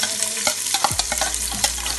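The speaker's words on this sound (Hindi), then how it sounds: "तो बर्तन में मैंने घी डाल लिया है, घी हमारा गर्म हो चुका है। अब इसमें मैं प्याज ऐड कर रही हूँ।" Onions frying in hot ghee in a cooking pot for chicken tikka biryani, a close, loud sizzle with crackling pops and quick scraping stirs, no voices over it.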